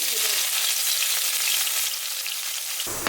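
Dense, close sizzling of onions frying in oil, loud and constant, dropping off slightly just before the end.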